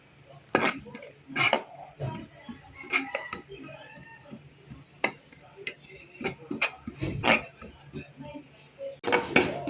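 Sesame seeds toasting in a hot frying pan while making palitaw, with irregular metallic clinks and scrapes of a utensil against the pan, close and fairly faint, under occasional speech.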